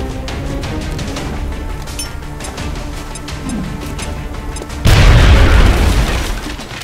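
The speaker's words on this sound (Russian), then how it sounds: "Бросьте гранату в противника перед вами." A grenade blast in the tactical strategy game XCOM: Enemy Unknown: a sudden loud, close boom with a crashing burst that decays over a couple of seconds, following a stretch of low rumbling ambience and sporadic clicks.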